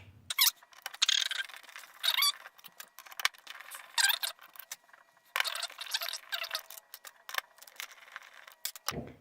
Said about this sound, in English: I gotta take the screws out before I can put that in.